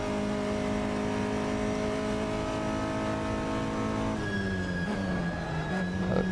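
Race car engine in Assetto Corsa during a vintage GT race, a steady loud droning whine held at constant pitch, then shifting and dropping in tone near the end, continuous and close with no speech.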